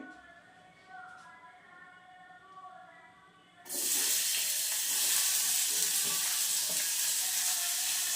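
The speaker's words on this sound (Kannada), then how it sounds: "ಸ್ವಲ್ಪ ಎಣ್ಣೆ ಕಾಯಿಸಿ ಈರುಳ್ಳಿ ಹಾಕ್ತಾಯಿದ್ದೀನಿ." Sliced onions hit hot oil for an egg masala, and after a few quiet seconds a loud, steady sizzle suddenly erupts and continues without break.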